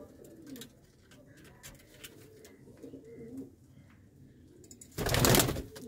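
Red Chinese pigeons give soft, low coos in short bursts against a quiet background, followed by a sudden loud flurry of noise near the end.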